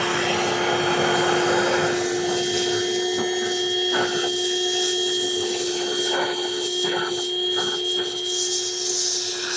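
Ryobi ONE+ 18V cordless 1-gallon wet/dry vacuum runs steadily with a loud, constant motor whine and airflow roar, with a few bumps and rattles as it works, no talk.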